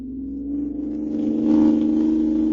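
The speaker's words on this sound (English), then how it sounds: "This car's got an engine in it, all right." A car engine drones steadily with a low, continuous hum that swells louder midway, as if the vehicle accelerates along a road.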